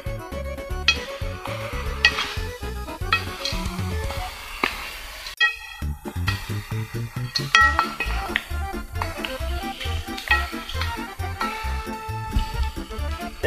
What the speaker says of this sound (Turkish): Karıştırırız onu bir kere. Da bırakırız o daha biraz kavurlansın.